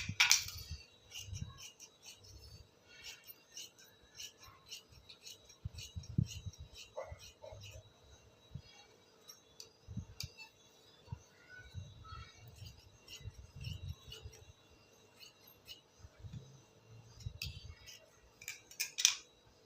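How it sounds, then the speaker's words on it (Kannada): Scissors snip the front piece of a blouse with a peacock design in a steady run of crisp metallic cuts, close and fairly quiet, while a person talks throughout. "ಇಲ್ಲಿ ಫ್ರಂಟ್ ಕಟ್ ಮಾಡಬೇಕೀಗ"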